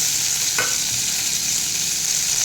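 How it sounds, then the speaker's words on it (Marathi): Chopped onion, green chili, ginger and garlic sauté over low heat in a pan, a steady close sizzle with one brief stir of the spatula, no talking. "हे आपण एखाद दोन मिनटं परतून घेऊया गॅस बारीकच ठेवायचं आहे"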